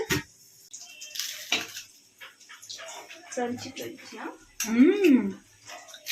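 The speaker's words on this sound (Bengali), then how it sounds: "আর ম্যাডাম এখানে থালা বাসন ধুচ্ছে।" Dishes and utensils being washed by hand during the monsoon season, with light clinks and splashes of water coming in scattered bursts beneath someone talking and other voices.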